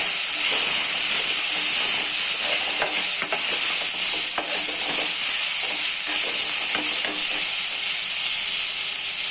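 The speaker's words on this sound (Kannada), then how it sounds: "ಟೊಮಾಟೊ ಕೊತ್ತಂಬರಿ ಪುದೀನ ಅದೇ ಹೋಗೋವರೆಗೂ ಫ್ರೈ ಮಾಡಿ" Tomato, coriander and mint fry in a pan for a country chicken sambar, giving a loud, steady sizzling hiss with scattered crackles and faint stirring scrapes throughout, no voices.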